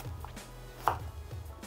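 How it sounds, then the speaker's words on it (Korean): A knife cuts half a zucchini into pieces on a cutting board, giving a few quiet, separate chopping knocks with one sharper thud in the middle and no talk. "적당한 크기로 썰으면 됩니다."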